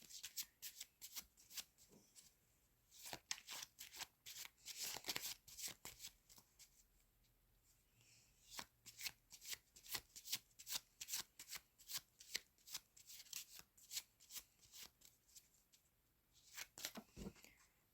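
Tarot cards being shuffled by hand during a reading, a long run of quick crisp riffles and soft slaps in bursts with brief pauses, close and fairly quiet.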